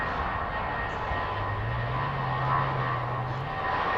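An airliner roars down the runway at Heathrow on its takeoff roll, a loud, steady, continuous jet rumble with a slowly rising tone and no pauses.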